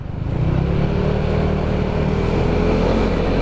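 A freshly refreshed motorcycle engine revving up, a loud, close, steady rising drone with rich low harmonics that builds within the first half second and holds strong throughout.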